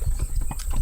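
Horse hooves clip-clop on pavement as a horse pulls an Amish buggy, a quick, steady rhythm of close, distinct clops with wheel and road rumble underneath.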